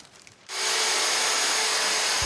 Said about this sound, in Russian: Бетономешалка на этой стройке работает последние дни.